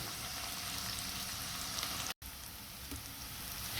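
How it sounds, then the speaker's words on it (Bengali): Onion and green chili frying in hot oil, a continuous close hiss and crackle of sizzling that holds steady throughout, broken only by a momentary gap of silence partway through. "এখানে পেঁয়াজ কাঁচামরিচ দিয়ে দিয়েছি তেলেতে, একটু ভাজা হলে মশলা দিয়ে দেব"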